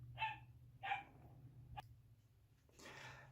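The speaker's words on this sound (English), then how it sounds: "dog going crazy again." Dog barking a few rooms away, two short clear barks followed by a sharp thump and a longer rougher bark, over a steady low hum.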